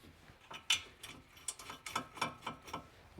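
A hand ratchet clicks in quick repeated strokes while snugging down front brake hardware bolts on a 2020-2024 Kia Soul, close and crisp with no talking.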